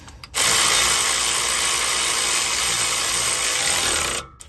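A power tool runs steadily for about four seconds, tightening a nut on a Fox 2.0 front shock mount on a 2024 Ford F250, loud and continuous with a sharp start and stop and no talking.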